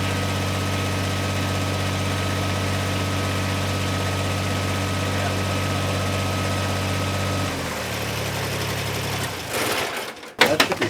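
A tractor engine idles at a deck repair and building site, a steady low drone with a faint whine that drops in pitch near the end before a few sharp knocks and clatters.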